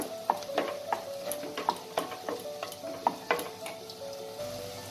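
Mutton keema sautéing with cumin and chilli powder while being stirred, with repeated sharp spatula scrapes and clacks against the pan over a continuous sizzle.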